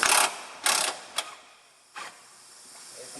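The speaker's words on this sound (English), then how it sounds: "I'm going to grab snap-on battery powered impact" Bursts from a Snap-on battery-powered impact wrench on a bolt while replacing the AC compressor on a 2002 Pontiac Montana, with two longer whirring runs, a short blip, then a brief final burst, fairly close.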